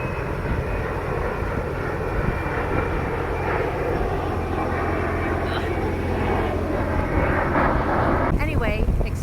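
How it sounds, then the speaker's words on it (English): A loud, continuous roar of a landing jet aircraft passing overhead near Beaufort, South Carolina fills the whole stretch, steady and broad, with a brief rising whine near the end. "except for all the jet noise"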